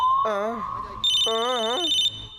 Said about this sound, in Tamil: இந்த போனை நான் எடுக்க போறதே இல்ல சார் சார் சார் அங்க அடிக்குது சார்